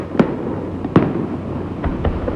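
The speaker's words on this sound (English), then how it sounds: "As the charges went off, a shudder went through the building." Demolition charges detonating in the 1998 implosion of the Aladdin hotel in Las Vegas, heard as a few sharp, distant-sounding bangs spaced irregularly over a low rumbling background.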